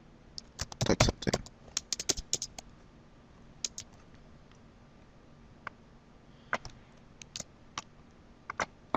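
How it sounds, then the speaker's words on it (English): Keys clatter on a computer keyboard in quick irregular bursts, a dense flurry early on then scattered taps, close and fairly quiet in a still room. "let's type something"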